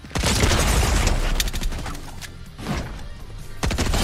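Rapid gunfire from an assault rifle and other weapons bursts out in the Fortnite video game, loud, dense volleys that ease briefly midway and then resume.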